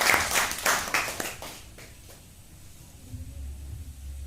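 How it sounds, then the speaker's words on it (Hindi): Brief burst of audience clapping at a Hindi poetry recital, several distinct claps that thin out and fade within two seconds, leaving quiet room tone and a low hum. "आप अपने लिए तालियां बजाएं"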